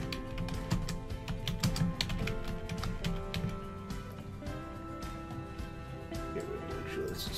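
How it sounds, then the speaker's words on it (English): Steady clicking of keys on a computer keyboard while a table-of-contents entry is typed, close and moderately loud throughout. "And we now type in table of contents."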